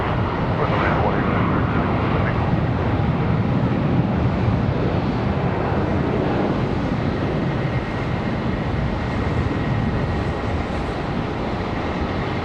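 An airliner landing on runway 18 right at Charlotte Douglas International Airport, a steady broad roar of engine and rushing air holding loud and constant throughout, with no clear change in intensity.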